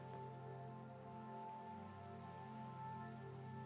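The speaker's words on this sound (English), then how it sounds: "Oh, it's raining." Steady rain patters in the video game Gardenfell, a continuous soft hiss under a sustained musical drone with no speech.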